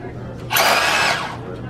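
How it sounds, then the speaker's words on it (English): Milwaukee power tool fitted with an 18-inch extension and tile chisel knocking up floor tile, a loud rattling hammering burst that swells up and runs for about half a second before easing off, close by. "can simply put the 18-inch extension along with the tile chisel and remove that tile"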